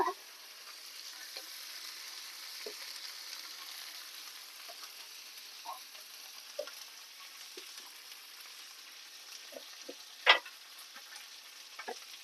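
Cabbage frying in a pan for a cabbage and drumstick-leaf fry, a faint steady sizzle with scattered soft clicks of stirring and one sharper tap near the end.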